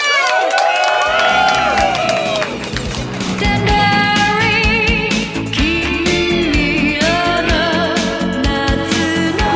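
An audience at a televised Thai prize-giving show claps and cheers loudly and continuously, a dense roar mixed with music and voices throughout.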